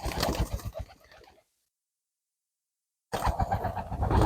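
Pigeons cooing in a pigeon loft, soft throaty calls close by that break off into a stretch of silence before the cooing resumes.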